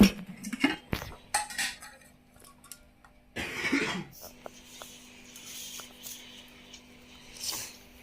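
Scattered clinks of cutlery against dishes while rice is eaten, with short sharp taps, a cough-like burst midway and faint voices in the background.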